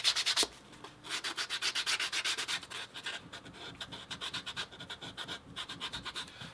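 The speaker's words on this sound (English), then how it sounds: "I'm just going to take some 220 grit sandpaper, and I'm going to level these edges" 220 grit sandpaper rubs back and forth along leather edges in quick, even rasping strokes, close and clear, pausing briefly between bursts of rhythmic scratchy sanding.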